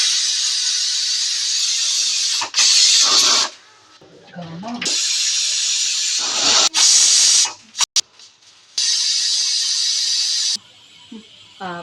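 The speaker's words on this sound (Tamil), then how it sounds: "விசில் போட்டுட்டேன் குக்கரை மூடி வச்சு கிட்டத்தட்ட ஒரு பத்து பத்து விசிலுக்கு மேலே விடலாம்" A pressure cooker cooking goat trotter soup whistles, its steam release hissing loudly in long, sustained bursts that repeat with short gaps, and a voice comes through during the quieter stretches.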